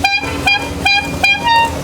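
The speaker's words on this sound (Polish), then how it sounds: "To się trąbi na przywitanie, pożegnanie, omijanie, wyprzedzanie, na co się chce w ogóle" Tuk-tuk horn on an Indian road honking in four short, bright toots spaced roughly evenly, loud and close, over a low traffic rumble with no talk.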